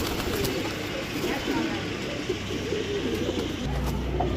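Pigeons cooing, soft low repeated coos against a dense, constant background of noise, with a voice talking faintly at times.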